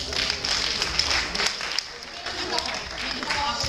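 Audience applause in a college classroom talk about industrial engineering, a steady wash of clapping held for several seconds at moderate loudness with a slight dip midway.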